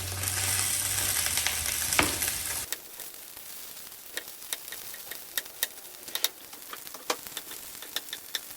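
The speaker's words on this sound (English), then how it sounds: "Now I'm adding more potatoes to the second pan." Chorizo and potatoes fry loudly in a pan with a dense sizzle at first, then the sound drops to a quieter crackle broken by sharp ticks and clicks from stirring and handling.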